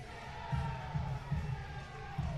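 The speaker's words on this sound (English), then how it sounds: "Heard some roars from the other court." A crowd at a men's league semifinal roars and cheers from another court, a muffled, distant swell of voices with rhythmic thumping underneath.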